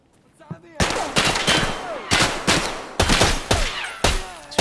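Automatic gunfire in the video game Escape from Tarkov with tracer rounds, several loud close bursts of rapid shots with echoing tails, separated by short gaps.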